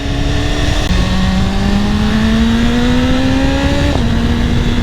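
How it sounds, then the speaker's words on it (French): A BMW S1000RR motorcycle engine drones steadily at speed, with two quick, abrupt pitch drops as the quickshifter changes gears, the revs climbing smoothly in between. "quand je passe les vitesses, le shifter, c'est fou"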